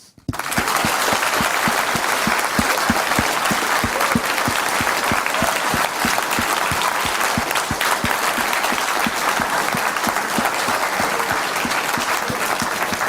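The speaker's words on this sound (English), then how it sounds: "Thank the audience for coming here, and a warm applause" Sustained applause from an audience at a Dreamhack developer talk on Minecraft, a dense, steady roar of many hands clapping that starts abruptly and holds at an even, loud level throughout without talk.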